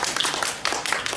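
Audience applause for a speaker on a Smart City Expo 2023 panel, a brief burst of scattered clapping from a room of listeners, moderately loud and irregular.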